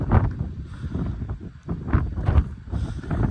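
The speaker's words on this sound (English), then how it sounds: "It's a little windy" Gusty wind buffets the microphone with low rumbling surges that rise and fall, steady and close, with no voices.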